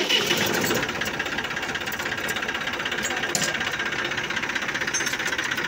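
Eicher 380 Super Plus tractor engine starting up and then running at a steady, rough, knocking idle, loud and close throughout with no voices.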